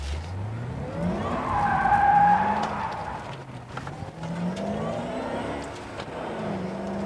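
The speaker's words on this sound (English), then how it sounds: "Now, the nice thing about having the traction control off is it's really easy to flip a U-ey." Tires squeal loudly as a car with traction control off swings through a tight U-turn on a public road. The screech is long and wavering over the engine, swelling in the middle and then easing off.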